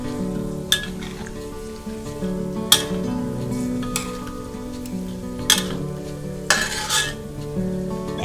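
Pork fat rendering into lard with pieces of crackling sizzling in hot oil, a steady close fizz broken by repeated metallic scrapes of a utensil stirring against the pan.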